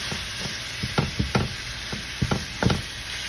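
Saltfish for a Jamaican dish is mashed up in a pan, heard as a series of irregular soft thumps and scrapes, some in quick pairs, close by over a faint background hiss.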